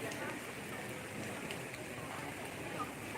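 Heavy nighttime rainfall in DPU, a steady broadband hiss of rain falling close by with scattered drop impacts, constant in level throughout and with no voices.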